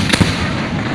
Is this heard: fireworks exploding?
yes